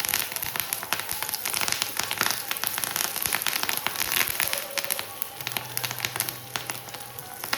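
Onions and curry leaves sizzle and crackle in hot oil for a fish curry tempering, a dense steady spattering close up with popping bursts and no one talking.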